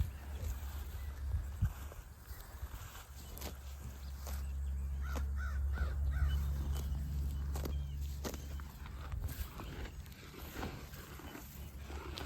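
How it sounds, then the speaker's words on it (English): Crows caw in a short run of repeated calls at middle distance outdoors, over a steady low rumble and crunching footsteps through grass. "the calls of the crow are beautiful too"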